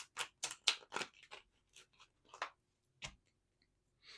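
Tarot cards shuffled by hand, a quick series of crisp papery riffles and taps, close and fairly quiet, with short pauses between bursts and no voices.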